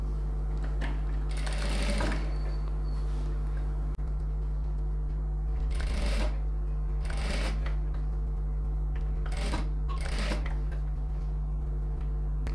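A sewing machine stitches the silk lining of a pattu pavadai in several short bursts of rapid, rattling stitching, separated by quieter pauses over a steady low motor hum, close by.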